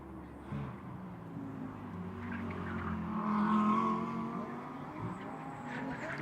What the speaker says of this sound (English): Nice to see the Aston Martin GT4 over here.